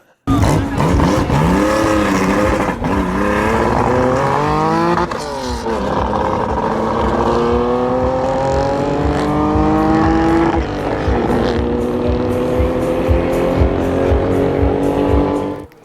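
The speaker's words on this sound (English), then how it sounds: "let's have a quick look at this classic 911 flying up the runway at Runway Club Live" A classic Porsche 911 RSR race car recreation powers up a runway at a car event. Its loud, close engine roars through repeated gear changes, with pitch climbing and dropping again across the whole stretch, and the tires squeal briefly.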